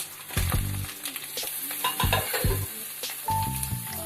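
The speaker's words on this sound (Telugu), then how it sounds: "ఉల్లిపాయలు ఎర్రగా వేగినాయండి. అల్లం వెల్లుల్లి పేస్ట్ వేస్తాను. వేగిందండి. టమాటాలు వేస్తున్నా." Tomatoes going into a pan of onions and ginger-garlic paste frying for a taro root stew, with steady sizzling and a few stirring and clinking bursts, close and fairly loud.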